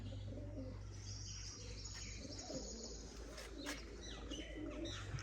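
Pigeons in a loft coo in low, throaty, repeated calls throughout, with a few higher chirps and occasional rustling over a steady background hum.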